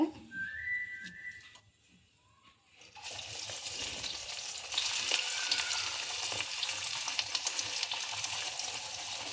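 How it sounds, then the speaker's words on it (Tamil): Banana flower vadai deep-fry in hot oil with a loud, steady bubbling sizzle that starts after a brief quiet pause and then runs continuously, close by, with no talking. "எண்ணெய் சூடாகிடுச்சு, போதும். வடை பாருங்கள் இப்படி செஞ்சுக்கோங்க."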